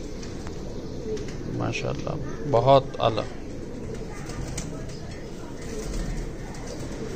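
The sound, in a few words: pigeon cooing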